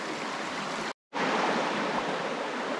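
Creek water flows in a steady close rushing wash, broken by a brief full cutout of about a fifth of a second before the same even sound resumes, with no voices.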